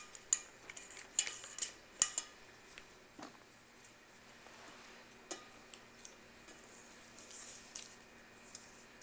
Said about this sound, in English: Okay, so I've tempered my chocolate, and I've just been stirring it and stirring it and stirring it.